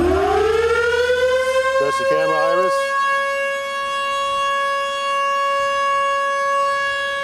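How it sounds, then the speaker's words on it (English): A civil defense style siren wails up to a steady sustained tone at a Soviet rocket engine test stand, loud and close, with a brief spoken command over it partway through. "Siren on."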